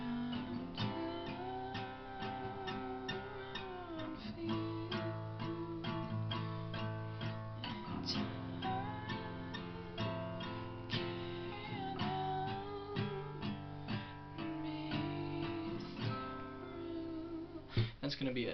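An acoustic guitar plays the closing chord progression of a song, each chord strummed and held long, ringing clearly and steadily on its own with no voice over it.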